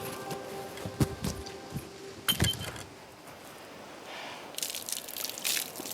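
Water is poured slowly over a person's head on a survival island, heard as faint trickling with a few splashy gushes and drips spread across the stretch, with no talk.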